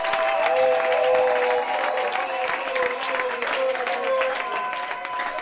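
A church congregation applauds and cheers in acclaim of the king of kings, steady dense clapping mixed with voices and a sustained tonal layer, loud and continuous throughout.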